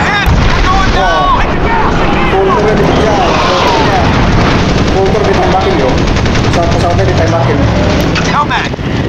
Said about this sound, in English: Damn it, we're taking fire.